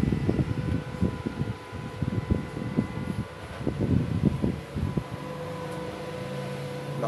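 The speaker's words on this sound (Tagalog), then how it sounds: "Lakas ng blower." The blower fan of a Makita MMA 400A welding machine runs with a steady whir and faint hum, overlaid by irregular low thumps and knocks from handling nearby.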